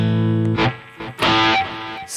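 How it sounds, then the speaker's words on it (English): Distorted electric guitar chords through a Rocktron Voodu Valve ring out in bursts, thick and gritty with a sustained buzzing edge, played alone without any talking. "these are my favorite distortion tones"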